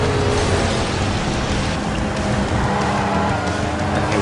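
Race car engine in the video game DiRT Showdown, a steady loud roar that holds its pitch without a break for a few seconds, with a hint of tire noise mixed in.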